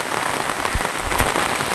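Heavy monsoon rain pours on a flooded Konkan market street, a dense, loud, continuous hiss of drops striking surfaces, with a few sharper splashes rising out of the wash and no one speaking.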